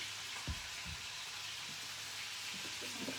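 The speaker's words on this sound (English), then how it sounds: "So wash the green pepper." A green pepper being rinsed under running water, a steady close hiss of flowing water with a few faint knocks from handling.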